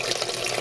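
A Giantex compact washing machine filling with water, a brief steady rush of running water heard close up.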